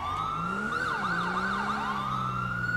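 A police car siren in GTA 5 wails with a rapid rising and falling yelp over a steady engine hum, moderately loud and without talk.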